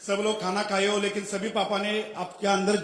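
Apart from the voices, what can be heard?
No everyday noises stand out.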